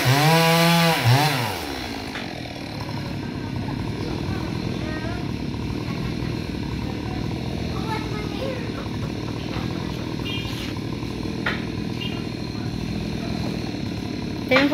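A chainsaw cuts through hard firewood, its steady buzzing drone running close and loud with slight load changes as it bites; a brief voice is heard at the very start.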